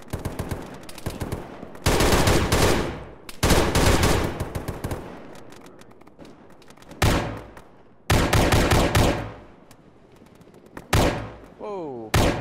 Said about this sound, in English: Whoa. RPG fire.